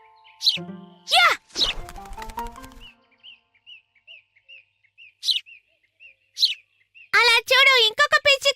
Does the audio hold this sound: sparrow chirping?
yes